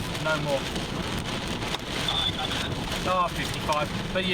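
Heavy storm rain drums steadily on a vehicle during a downpour with strong gusty wind, a continuous loud wash under someone talking throughout.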